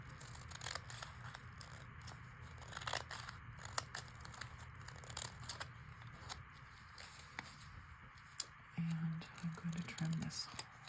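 Scissors trim paper for a scrappy button card mini notebook, with a run of quiet snips and rustles at close range. A soft voice can be heard talking over the cutting.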